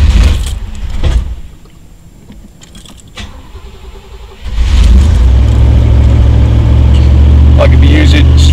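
A non-fuel-injected car that has sat unused for about two months turns over and settles into a loud, steady idle after some brief handling noises, running on alone to the end.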